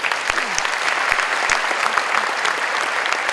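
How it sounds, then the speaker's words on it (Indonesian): Audience applause in a large hall at Idea Fest at JCC Jakarta, a dense steady wash of many hands clapping with a few sharper claps standing out, loud and continuous throughout. "Tepuk tangan untuk Pancasila."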